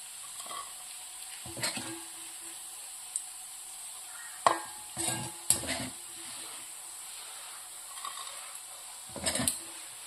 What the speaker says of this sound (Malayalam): നമ്മളിതാ രണ്ടാമതിട്ട ബീഫും ഫ്രൈ ആയി വന്നിട്ടുണ്ട് നമുക്കതും എണ്ണയിൽ നിന്ന് കോരിയെടുക്കാം